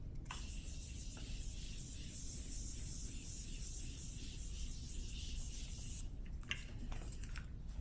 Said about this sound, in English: I'm gonna take my Morphe setting spray. This is the Continuous Setting Mist.